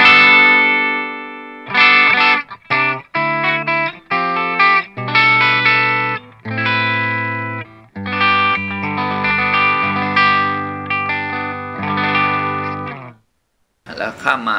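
Electric guitar through a Line 6 POD HD500X set to a vibrato amp channel, playing choppy chords and single-note phrases with a wavering, gritty tone, loud and close, ending in a short pause before a final stab.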